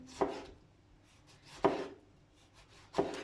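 A knife cuts a tomato into round slices on a board, three distinct sharp chops spaced about a second and a half apart, each with a quick crunchy attack and short fade, close and alone.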